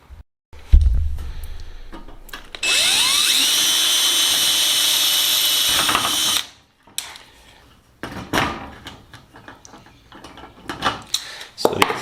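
A power drill with a number 30 bit bores holes in the rear spar assembly of a Sonex aircraft build, a loud whine held for about four seconds, followed by scattered clatter and handling knocks.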